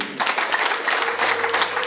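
Wedding guests at a Rwandan marriage ceremony burst into applause, a dense crowd of hands clapping steadily at close range after a brief quiet start.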